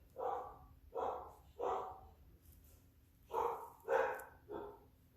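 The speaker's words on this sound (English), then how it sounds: "Oh, she's barking again. She's excited." A dog barks in short bursts, three quick barks, a pause, then three more, fairly faint and slightly distant in a quiet room.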